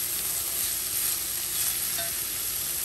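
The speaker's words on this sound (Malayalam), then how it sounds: "എന്നിട്ട് നമുക്ക് ഇതെല്ലാം കൂടെ ഒന്ന് നന്നായിട്ട് മിക്സ് ചെയ്തെടുക്കും." Chicken fried rice being stirred and fried in a pan, a steady, loud sizzle with continuous scraping and stirring throughout, no voices.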